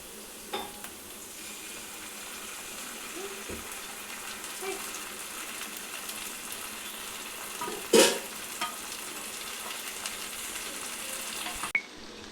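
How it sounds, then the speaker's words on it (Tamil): Chilli sauce and tomato sauce go into a pan of pasta that is already frying. A steady, moderate sizzle hisses throughout, with a few soft knocks and one louder clatter of stirring. "இப்போ சில்லி சாஸும் டொமேட்டோ சாஸும் ஊற்றிக்கலாம்."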